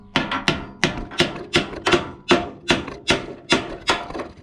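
A hammer strikes repeatedly while a chrome bumper is knocked off a 1964 Ford Galaxie with a 460 big-block, about a dozen sharp metallic blows at a steady, slightly uneven rhythm, close and loud.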